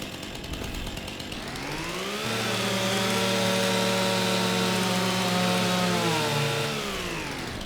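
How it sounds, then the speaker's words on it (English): A chainsaw trimming bushes on a farm, revving up from a rough idle into a loud, steady high-pitched whine that holds for several seconds before easing back down, close by with no talking. "I think I've still got my chainsaw."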